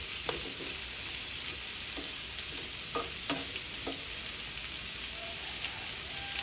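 Squash sautéing in a hot pan for a Filipino coconut-milk squash dish with shrimp: a steady, close sizzle with scattered clicks and scrapes of stirring, and no talking.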